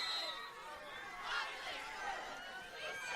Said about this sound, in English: You can hear Tanner's crowd